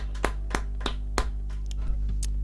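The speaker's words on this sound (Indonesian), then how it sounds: "Kita beri tepuk tangan." A handful of scattered hand claps ring out from a church congregation at a New Year's Eve prayer service, the sharp claps spaced irregularly and fairly faint over a steady low hum.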